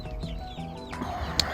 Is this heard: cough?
no